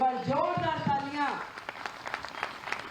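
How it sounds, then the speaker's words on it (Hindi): A speaker's voice at a political rally opens the moment, then the audience breaks into scattered, fairly distant clapping that continues for the rest of the stretch. "एक बार जोरदार तालियां"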